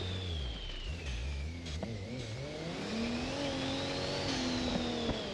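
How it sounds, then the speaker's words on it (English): A turbocharged six-cylinder car engine in BeamNG.drive revs and drones steadily, pitch sliding up and down as it accelerates, loud and continuous with a whining tone riding above the engine note. "as you can tell, it's got a turbocharged 6-cylinder"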